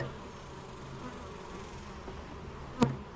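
Honeybees flying around an open hive, a continuous close buzzing hum of many wings with one brief sharp knock near the end, and no talking.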